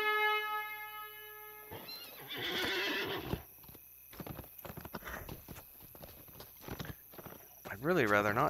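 A horse in The Lord of the Rings Online whinnies at the start and again at the end, with clip-clopping hooves in between, while someone talks over parts of it.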